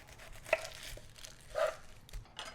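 A knife cuts through a sweet onion on a board in a few quiet, separate chops, faint and close, with light crinkly handling in between.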